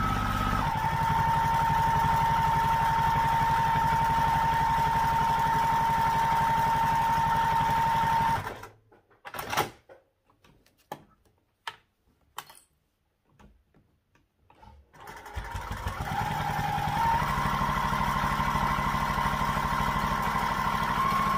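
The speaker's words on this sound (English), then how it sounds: "we sew down each side just like we did for the strap" A sewing machine stitches a backpack carrying handle, running as a loud, continuous mechanical whir with a steady hum, pausing for several seconds with faint clicks, then starting up again and running on.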